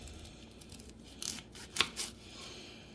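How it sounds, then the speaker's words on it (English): A knife slicing Brussels sprouts in half on a board gives a few quiet, crisp crunching cuts clustered together, with soft leafy rustles around them in a quiet room. "I take my knife and I just cut them in half"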